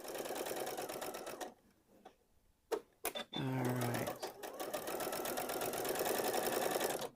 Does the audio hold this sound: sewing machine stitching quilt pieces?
yes